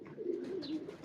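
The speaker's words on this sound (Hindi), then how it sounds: "ये टैडी कबूतरी है" A large Teddy pigeon hen, a cross with Ferozpuri and black-faced birds, gives a short, soft, low cooing phrase close by with no talk over it.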